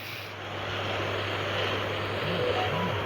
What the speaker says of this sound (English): Let's do reverse thrust.